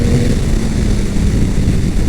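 Yamaha MT-09 SP motorcycle from 2021 being ridden, its engine a steady low rumble mixed with wind buffeting, continuous and fairly loud with no voices.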